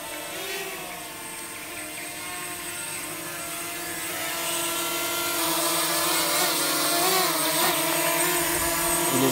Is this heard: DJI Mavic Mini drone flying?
yes